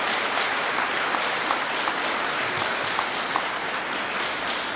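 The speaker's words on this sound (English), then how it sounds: "if we could give them another round of applause" Steady, dense applause from a banquet-hall audience at a high school academic awards banquet, continuous clapping filling the room with no voices over it.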